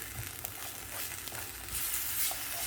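Chickpea curry ingredients fry and sizzle in a pan while being stirred, a steady close crackling hiss with soft scraping, no talk.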